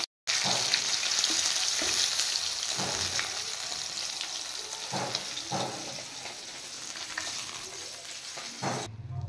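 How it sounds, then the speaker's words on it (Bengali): Fish frying in oil, a continuous close sizzle with intermittent stirring scrapes and light knocks, no voices. "much fry complete"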